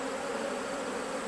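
Honey bees buzz around an open hive, a dense, steady drone of many wings with no pauses, close and continuous.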